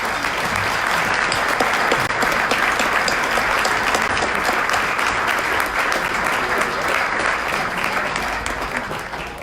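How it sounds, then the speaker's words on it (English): A room of attendees at a Rotary club meeting applauding guests, with dense, sustained clapping from many hands at a steady loud level throughout, no talking. "Let's give them all a nice round of applause."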